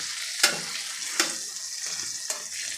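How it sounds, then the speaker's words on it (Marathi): Stuffed brinjals sautéing in hot oil and masala, a steady close sizzle and frying hiss broken by a few stirring scrapes. "सगळी वांगी मी टाकून घेतलेली आहे आणि आपल्याला ही दोन ते तीन मिनटे परतून घ्यायची आहे"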